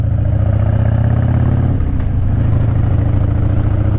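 A motorcycle engine hums steadily while being ridden, a low continuous drone with a slight dip near the middle, loud and close with no voices.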